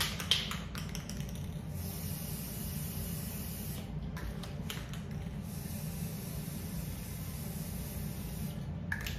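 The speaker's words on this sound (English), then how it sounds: "So we're gonna go ahead and spray paint just the rim, guys, just the rim." Short hissing bursts of Rust-Oleum metallic gold spray paint are applied to the rim of a vase, with several quiet sprays and faint clicks of the nozzle against a steady low room hum.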